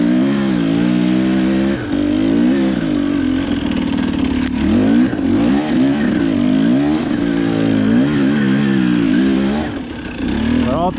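An enduro motorcycle churning through deep winter snow in Alberta, its engine revving and bogging in repeated surges, loud and close with a steady rough drone.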